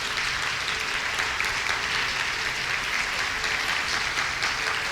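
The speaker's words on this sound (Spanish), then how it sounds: "Dale un aplauso fuerte al Rey." Church congregation applauding loudly and steadily throughout, dense continuous clapping at a sermon service.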